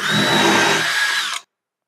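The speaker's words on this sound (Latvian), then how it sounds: "Urbjam caurumu, 8 mm urbi." A power drill with an 8 mm bit whines loudly and steadily as it bores a hole into a wall for a drywall anchor, then cuts off abruptly into silence.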